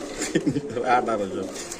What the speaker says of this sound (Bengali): এখানে আছে তিন জোড়া কবুতর